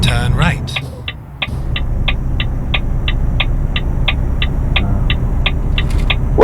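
A Volvo FH 600 truck with a 12-speed gearbox turning and driving, its engine rumbling steadily under an evenly spaced ticking of the turn signal, with a brief voice at the start.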